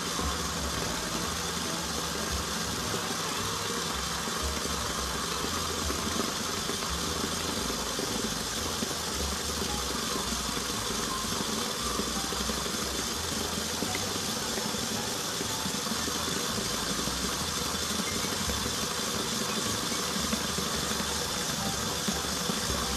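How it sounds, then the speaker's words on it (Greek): An electric mixer beats egg whites and sugar into meringue at high speed, a loud, unbroken motor whir that holds steady throughout with no voices. "Συνεχίζω το χτύπημα μέχρι η μαρέγγα"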